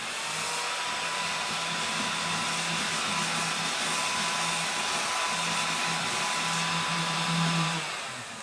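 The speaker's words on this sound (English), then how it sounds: "let's try vacuuming this thing up" A small vacuum cleaner motor whirs steadily and close, a constant high hum with a faint rattle of glitter being sucked up.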